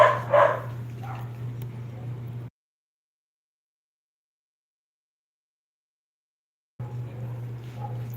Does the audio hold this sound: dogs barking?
yes